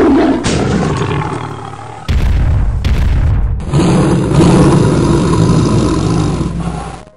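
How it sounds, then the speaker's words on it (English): A fierce tiger lets out loud, close roars in a cartoon mountain-road scene, several deep bellowing bursts separated by brief breaks, with booming effects mixed in. "It was a fierce tiger."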